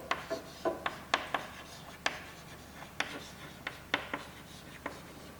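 Pen or chalk writes an answer to a chemistry problem, making a series of soft scratchy taps and strokes at an irregular pace, close and fairly quiet over faint background noise.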